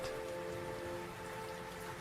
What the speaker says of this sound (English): the hypnotic, rhythmic echoing of the rain falling upon the dark, smooth cobblestones beneath your tired feet